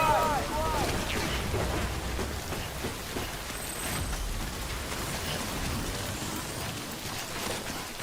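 Steady rain in the video game Death Stranding hisses as a dense, even wash of drops, fairly faint and constant, with a brief tonal blip near the start.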